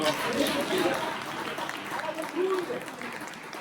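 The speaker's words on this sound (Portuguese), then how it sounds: "Aplauda o Senhor." A church congregation applauding during a baptism sermon, a steady wash of clapping with crowd noise that swells and fades over a few seconds under the room's reverberant murmur.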